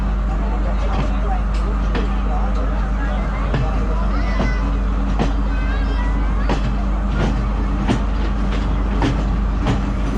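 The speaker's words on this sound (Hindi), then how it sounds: "हमारी ट्रेन भी चल रही है" A passenger train runs on rails on a scenic route in Sri Lanka toward Ella, a steady rumble with scattered clacks, and a crowd chatters under it.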